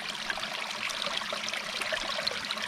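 A small mountain stream in the village of Piódão flows with a steady, close-up trickling and gurgling, alone and unbroken throughout.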